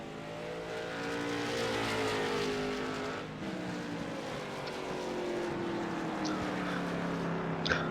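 Race cars in an iRacing bump-and-run event at Martinsville Speedway drone past with overlapping engine whines that rise and fall as they circle the short track, steady and fairly close, with no talk.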